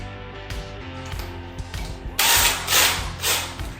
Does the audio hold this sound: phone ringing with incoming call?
no